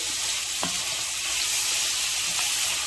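Bacon frying in a pan gives a continuous close hiss and sizzle with faint crackles and a couple of small knocks, steady throughout and without voices.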